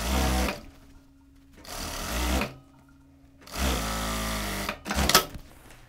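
Sewing machine stitching the button placket of a child's shirt, running in three separate bursts with quiet gaps between them, loud and close.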